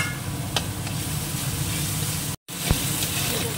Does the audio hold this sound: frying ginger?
yes